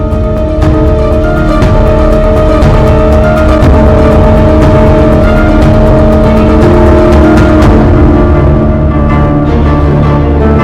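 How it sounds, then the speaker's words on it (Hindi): A car engine runs loud and steady with a droning hum, gradually thinning at the top end as the vehicle pulls away. "वो तो गाड़ी में बैठ के चला गया।"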